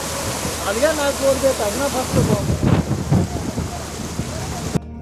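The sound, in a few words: thunderstorm with heavy rain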